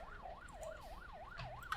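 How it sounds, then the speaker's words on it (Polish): A faint ambulance siren wails in smooth, even up-and-down cycles, steady and distant, with no talking. "Zobaczymy gdzie ta karetka pojechała."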